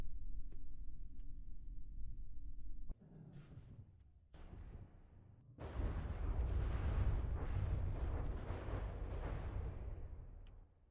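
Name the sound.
enemy ship shooting in video game From The Depths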